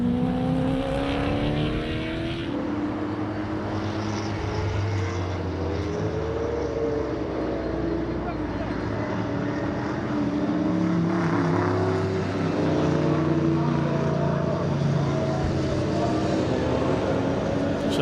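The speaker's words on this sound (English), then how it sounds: "you can hear in the background, it's Mackie Adams' car at the back" A Jaguar XKR race car engine drones steadily on the Zwartkops circuit during regional racing, with shifting pitch as cars pass, loud and sustained throughout with other track engines.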